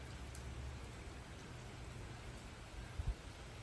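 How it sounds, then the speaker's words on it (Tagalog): Steady rain falling on a Monday morning in Salinas, a continuous even hiss of drops on surfaces with a couple of brief louder taps near the end, no voices. "Umuulan dito sa Salinas, mga kababayan."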